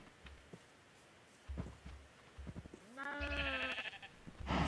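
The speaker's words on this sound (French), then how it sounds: "Ah, le mouton, il rentre pas." Blocky sheep in the game Minecraft bleat in a clear, wavering call lasting about a second, preceded by soft game clicks and thuds and followed by a sharp knock.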